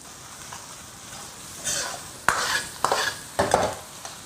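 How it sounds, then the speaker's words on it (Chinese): Bull testicles stir-fried in a wok with scallion, garlic and pickled chilies: a soft sizzle with a few sharp scraping stirs and clinks of the spatula against the pan, moderately close. "再把牛蛋倒进去，一起爆一下。"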